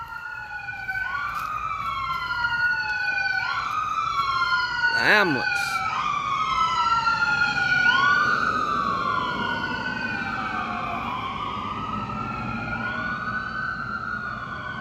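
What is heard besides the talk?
emergency vehicle siren passing on a rural road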